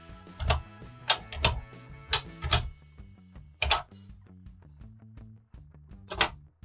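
Keys clacking on an EACA Colour Genie EG2000 home computer keyboard, a handful of close, sharp keystrokes in uneven bursts with a low electronic hum underneath.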